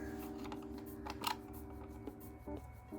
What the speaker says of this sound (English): I'm gonna remove these two metal clamps using a flathead screwdriver